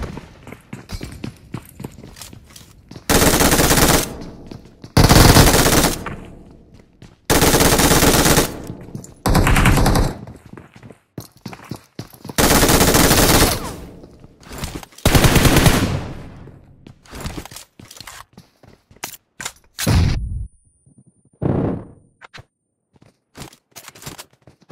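A PUBG Mobile squad fight erupts in loud, long bursts of automatic gunfire, several sustained volleys separated by shorter scattered shots and pauses, close and intense.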